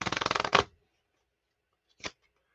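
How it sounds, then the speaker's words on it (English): A deck of playing cards is shuffled in a quick riffling burst, followed after a pause by a brief second flutter of cards, close up with silence around them. "Now I'm going to shuffle this deck."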